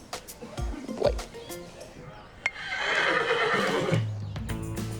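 A horse whinnies in a stable yard, a loud neigh swelling in the middle amid hoof clatter and handling noises, with people talking nearby.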